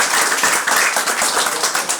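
Audience applause at a lecture, a dense, steady wash of many hands clapping for about two seconds, fairly loud and close, with no voices over it.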